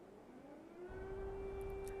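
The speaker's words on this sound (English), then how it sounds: "Sounds like air raid sirens coming through though now on some of our Kiev cams." An air raid siren carried over a Kyiv live camera feed, a steady wailing tone that swells louder and holds, heard distantly over a low rumble of background noise.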